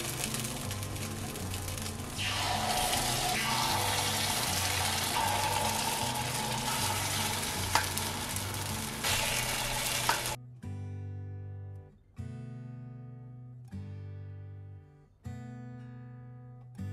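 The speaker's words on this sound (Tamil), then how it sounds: "கொப்புரிச்சி மாவுடுவோம்." Batter for Jaffna kundu paniyaram hisses loudly in an oiled, heated pan for about ten seconds, then settles into a softer, bubbling sizzle broken by short pulsing pops.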